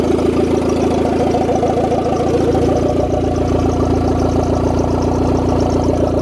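Turbo D16 single-cam engine idling with the turbo free-spinning, a loud close steady rumble with a rapid even pulse and faint whine over it, holding constant throughout.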